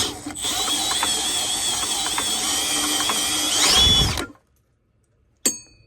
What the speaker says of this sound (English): Now I'm just going to take my drill and let it splash around.